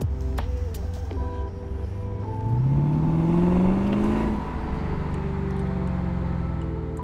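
Lexus RC F performance coupe engine revving while driving, a steady cabin drone that swells into a rising rev for a couple of seconds before settling back to a smooth cruise.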